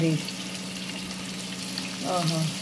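Onions fry in a pan for a fish curry, giving a continuous close sizzle with a faint hum and a brief voice-like tone at the start and end.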